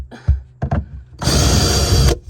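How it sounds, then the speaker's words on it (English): A power drill runs for about a second behind a camper van cabinet, unscrewing the bottom shelf from its backing, after a couple of short knocks and clunks; the whirring burst is close and loud. "unscrewing the bottom shelf from the backing, so that way I can pull the bottom shelf off"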